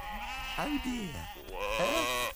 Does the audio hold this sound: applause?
no